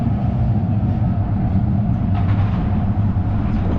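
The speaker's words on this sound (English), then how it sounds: "Downtown train." A downtown train in Calgary passes on a February day, producing a loud, steady rumble and rushing noise close by, with no talk.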